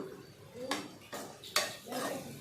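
Bitter gourd fry with ginger and salt is stirred in a pan, giving three or four close, distinct scraping strokes of a spoon against metal over a low background.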